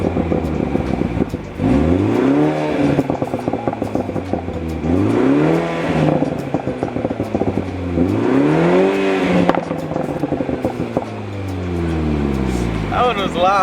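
BMW 330i B4 with a Bootmod3 Stage 1 flash tune revving hard in Sport Plus, several sharp rising engine pulls with crackling burbles between them, loud and close, with voices talking underneath.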